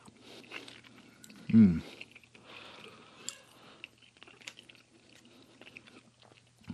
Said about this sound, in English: The shell does have a little bit of a crunch to it.